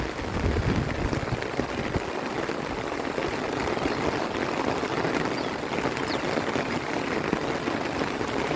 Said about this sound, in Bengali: বৃষ্টির ভেতরে